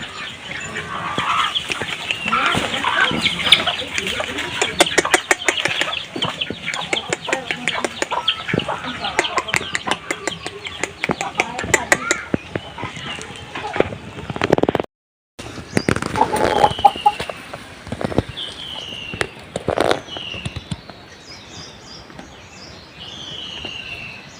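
Chickens and a rooster cluck repeatedly nearby in short irregular bursts over a busy farmyard background, with a brief gap partway through and occasional voices.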